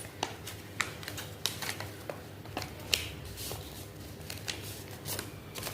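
Paper crinkling and creasing as airplane wings are folded, a quiet run of sharp crisp taps and rustles scattered irregularly, close to the listener with no voices.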